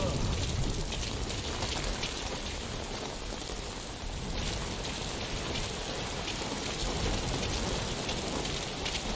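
Steady, heavy rainfall pours continuously in the video game Metal Gear Solid V: Ground Zeroes, a dense hiss of drops on surfaces with no break, fairly quiet overall.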